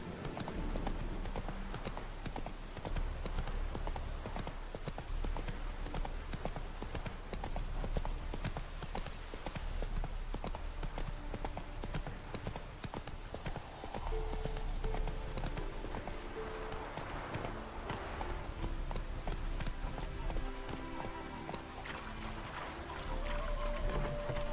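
Roach the horse galloping in The Witcher 3, a continuous rhythmic drum of hooves running throughout, loud and close, over music and ambient game sound.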